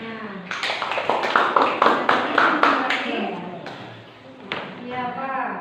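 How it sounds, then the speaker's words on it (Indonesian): Applause in a classroom: a group claps in a quick run of sharp, regular claps that fades out, followed by a few scattered claps, with voices talking over it. "Iya, tepuk tangan."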